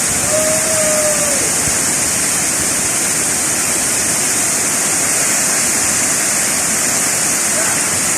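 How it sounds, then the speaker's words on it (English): Pico del Gallo waterfall in the Central Mountain range near Sajoma, Dominican Republic, a loud, continuous roar of falling water that holds steady throughout, with faint tones briefly heard over it. "This is El Gallo waterfall."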